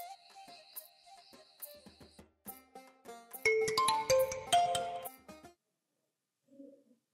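A mobile ringtone plays a melodic tune, starting with sparse notes and then a brighter run, then stopping, followed by a brief faint sound.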